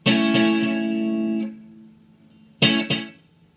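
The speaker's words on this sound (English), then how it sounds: "and then I can blend that delay out as well" Guitar notes played with echoes that fade quickly, followed by a quiet pause and then two more short, sharp strums with only faint repeats.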